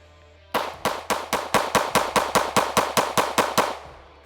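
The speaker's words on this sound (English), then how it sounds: "So let's shoot the Hellcat." A Springfield Hellcat Pro Comp pistol fires a rapid string of about fifteen loud, sharp shots in an even rhythm, close by, with a steady low hum underneath and no talking.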